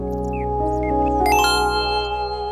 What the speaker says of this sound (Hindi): मैसेज आया है उसका